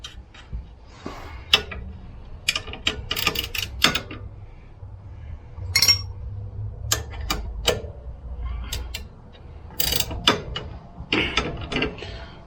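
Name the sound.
ratchet bolting up the shock on a CFMOTO ZForce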